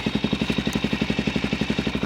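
Suzuki DRZ400SM motorcycle with a shortened Yoshimura exhaust idling close by, a loud, steady, fast-pulsing single-cylinder thump throughout.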